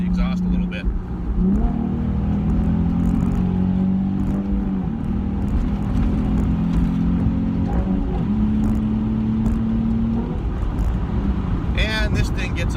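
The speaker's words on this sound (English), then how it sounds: "Let's see if I can do a shift and let you hear the exhaust a little bit." A lowered Nissan 350Z with an aftermarket exhaust revs close and loud as it pulls through the gears, its engine note climbing steadily and dropping back at each of several shifts.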